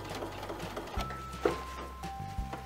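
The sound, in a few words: sewing machine stitching a skirt waistband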